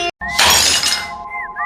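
A ceramic cup is dropped and shatters in a single sharp, bright crash with a short scattering tail. It is loud and close, and a faint tonal hum sits beneath it.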